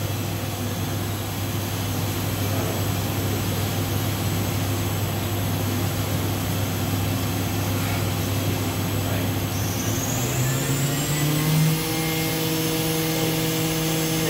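Okuma MA-50HB machining center spindle running at 8,000 RPM, a steady loud mechanical whine and hum that climbs in pitch near the end, with no talking over it.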